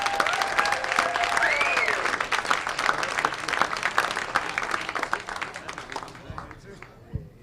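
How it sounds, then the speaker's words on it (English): A comedy club crowd claps and cheers for comedian Calvon Brown, loud and dense at first, then thinning and fading toward the end, with a host's voice talking over it. "Y'all start clapping for my man."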